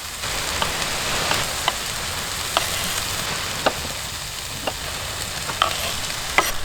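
Onion, carrot and capsicum fry in a pan over a campfire on a 4WD camping trip, a steady close sizzle with soft crackles and occasional sharp pops and stirring clinks.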